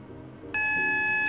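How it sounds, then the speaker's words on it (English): An AWS warning alarm in the Roblox train driving game SCR sounds as a sudden, loud, steady electronic tone that starts partway through and holds to the end, over quiet cab rumble. "There we go, another AWS alarm responded to."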